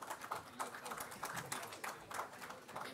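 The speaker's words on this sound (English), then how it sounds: "Huge round of applause for Dr." An audience at a healthcare conference applauds, a soft, steady patter of many hands clapping, faint and somewhat distant, with no voices over it.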